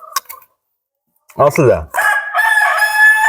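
An Andijan black rooster crows one loud, drawn-out call that rises and holds, with an earlier brief voice and a short silence before it.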